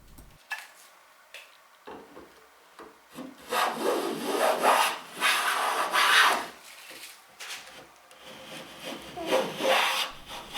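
A hand plane takes long shavings off oak boards while a joint is trued up, making bursts of rasping, swishing strokes, several in a row at close range and separated by brief pauses.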